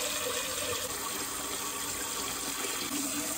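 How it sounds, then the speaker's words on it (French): A cooking pot filling with water from a kitchen tap, a steady unbroken rush of running water close by for the whole stretch, with no talking over it. "remplissons la marmite d'eau"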